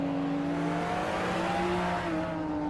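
A 2008 BMW Z4M Coupe GT races at Pergusa in a racing video game, its engine holding a steady, loud, tonal drone that climbs slightly in pitch as it accelerates, heard alone without speech.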